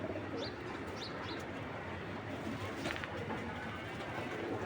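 A fast racing pigeon coos faintly over a steady murmur of farm background noise, with a few soft chirps from other birds.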